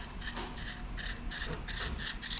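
A screwdriver tip scrapes back and forth across a rough engine bearing surface from an engine revved with no oil pressure, giving close, steady rasping strokes in a repeating rhythm, with no talk.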